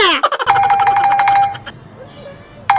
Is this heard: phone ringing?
yes